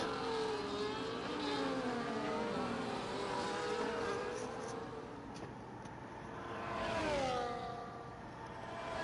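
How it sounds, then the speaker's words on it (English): Race cars in an F1 video game during a United States Grand Prix online league race, engines droning and revving continuously with rising and falling pitch as cars accelerate, steady and fairly loud with no voices. "Oh, Oleski, the first car out."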